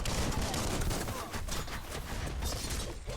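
Pistol fire in the action video game Biomutant, a dense, loud barrage of overlapping gunshots blended with busy game effects throughout.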